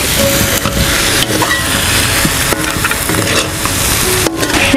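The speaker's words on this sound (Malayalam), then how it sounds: "ഇത് നന്നായിട്ട് നമുക്ക് മിക്സ് ചെയ്ത് കൊടുക്കാവേ മസാലയും ശംഖു എല്ലാം കൂട ഒന്ന് വേകട്ടെ" Conch meat is stirred in a masala roast in a pan, with steady sizzling and frying plus scraping stirs that run continuously and loudly throughout.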